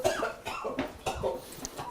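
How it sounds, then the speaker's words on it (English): Someone coughs repeatedly from chili pepper fumes while cooking Texas red beef chili, several short, close coughs in an irregular burst. "it's like making my eyes water and I'm coughing"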